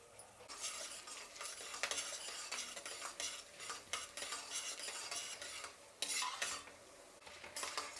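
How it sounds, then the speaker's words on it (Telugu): Peanuts, chana dal and urad dal fry in oil in a pan for tamarind rice, giving a busy crackling sizzle with constant rattling stirs and scrapes of a metal spoon, close and continuous, no voices. "ఇప్పుడు పల్లీలు, అలాగే శనగపప్పు, అలాగే ఉద్దిపప్పు. ఇప్పుడు ఇవన్నీ వేయించుకునేద్దాం బాగా."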